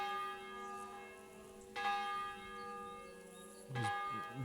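Church bells ringing out in Kuttenberg in Kingdom Come Deliverance II, sustained resonant bell tones with two louder fresh strikes a couple of seconds apart, loud and fairly near, with no speech.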